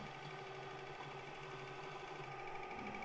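A lathe turns an acrylic disc mounted on a 1/4-20 bolt, giving a steady, faint motor hum with a soft cutting whir. The sound stays even throughout, with no voice.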